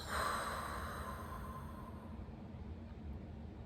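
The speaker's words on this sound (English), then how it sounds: "take a nice deep breath in and a good deep exhale" A slow, deep breath in and a long exhale, soft and close, with airy breath noise swelling at the start and trailing off over a few seconds against a low steady hum.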